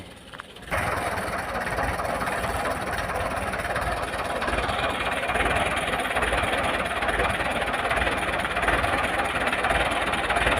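A Deutz mountain tractor with an air-cooled engine and no radiator runs steadily after a brief quieter opening, a loud continuous rumble holding close and unchanging through the rest of the stretch.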